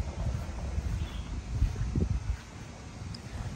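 Low, gusty wind buffets the microphone in uneven rumbling bursts in a Florida home garden in fall, with faint rustling in the background.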